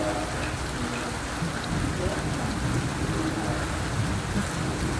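Steady, dense rain falls outdoors at a plumbing work site, a continuous loud wash of drops on surfaces with no letup and a faint voice now and then beneath it.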